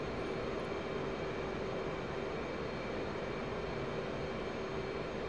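An F/A-18 Hornet's jet engine roars in the DCS flight simulator, a steady, dense broadband rumble with a faint tonal whine, unbroken and without talk.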